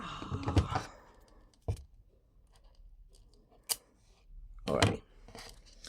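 Scissors cut during kite-earring making, with a few sharp, isolated snips spread across quiet stretches, plus brief handling clatter and a short spoken word nearby.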